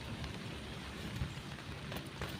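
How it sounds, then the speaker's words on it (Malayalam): Rain falling outdoors around a person holding an umbrella near a water-collecting setup, heard as a faint, steady patter and hiss with scattered drop taps throughout, no voices. "മഴയുണ്ട് ഇവിടെ, അത് കാരണം ഞാൻ കുടയൊക്കെ ചൂടിയിട്ടാണ് നിൽക്കുന്നത്."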